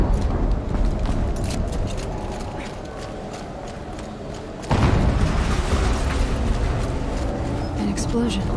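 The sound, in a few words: explosion in the video game Horizon Zero Dawn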